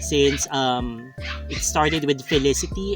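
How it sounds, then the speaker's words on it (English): Puppies bark and yip in short bursts, close and fairly loud, mixing with and cutting across a woman's ongoing speech. "excuse the noise, my puppies are a bit noisy"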